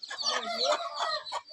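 Chickens cluck and squawk close by in a busy farmyard flock that includes ducks, a dense, continuous chatter of overlapping calls with no talking.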